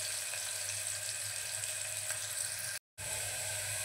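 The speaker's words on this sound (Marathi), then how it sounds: "थोडासा कांदा आपल्याला लालसर होईपर्यंत परतवायचा आहे।" Onion fries in a pan for a Malvani-style black-eyed pea, potato and brinjal curry, giving a steady, soft hiss of sizzling with a brief dropout near the end.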